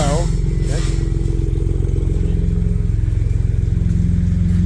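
A big motorcycle rumbles steadily close by, its deep, throbbing exhaust note continuous throughout, with a brief voice or whine near the start.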